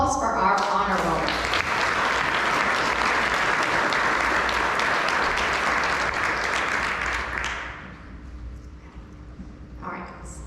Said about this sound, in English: Let's have one last round of applause for our honor roll